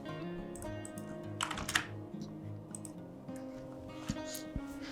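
Keys on a computer keyboard clatter in quick, uneven bursts as a web story title is typed, soft and close with brief pauses between clusters of clicks.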